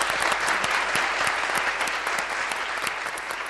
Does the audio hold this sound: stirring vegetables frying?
no